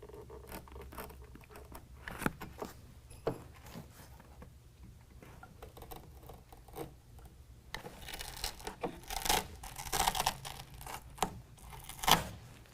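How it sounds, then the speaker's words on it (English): Velcro is cut away with a tool on the bed of a 2019 Chevy/GMC 1500 pickup, giving quiet scratchy snips and tearing rasps that grow busier and louder toward the end, no speech. "I'm going to go ahead and cut that away so that it's not obstructing that bracket at all."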